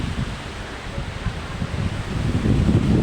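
Strong typhoon wind roars steadily outdoors, a dense broadband rush that builds louder toward the end, with no voices.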